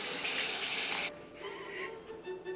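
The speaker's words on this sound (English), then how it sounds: "wash your hands now" Hands washed under a running kitchen tap, a steady loud rush of water that cuts off abruptly after about a second, followed by faint drips and handling sounds.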